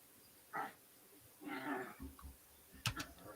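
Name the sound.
dogs (puppies) in the room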